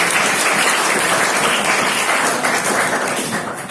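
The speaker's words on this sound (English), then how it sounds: "3 claps for all" Schoolchildren clap together at a 10th class prize distribution ceremony, a dense, steady burst of applause filling the room for nearly four seconds without letting up.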